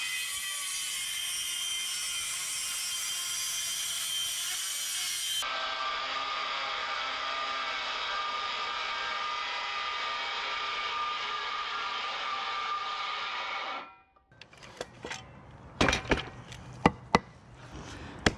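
A saw makes a rip cut in one loud, continuous high whine that changes pitch partway through, then spins down and stops, followed by a few sharp knocks and clatters of wood being handled.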